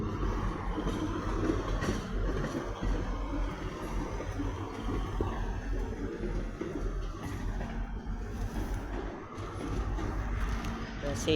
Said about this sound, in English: now arriving is 158-760. Great Western Railway service to Paynton.